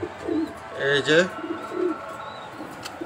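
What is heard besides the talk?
racer homing pigeons cooing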